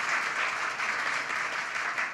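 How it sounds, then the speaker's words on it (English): A gala audience applauds in a large hall, a dense steady wash of many hands clapping at moderate distance, continuous throughout without talk. "Don't mean to step on your applause, Nolan, wherever you are."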